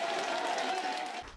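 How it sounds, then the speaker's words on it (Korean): Applause and cheering fill a dining hall at a dinner banquet as two leaders walk in, a dense wash of clapping that carries on briefly and then cuts off abruptly. "두 정상이 들어서자 식당 안은 함성과 박수로 가득 차기도 했습니다"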